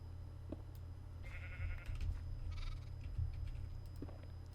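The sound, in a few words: sheep bleating (video game)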